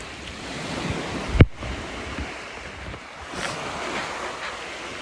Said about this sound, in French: Avec l'eau, des belles vagues.